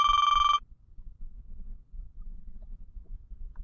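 A mobile phone rings with a single loud electronic tone burst lasting about half a second, then cuts off, leaving low background rumble.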